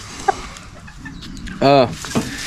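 A bantam rooster gives a short, loud strained crow-like call amid a few clucks and soft background noise, close by.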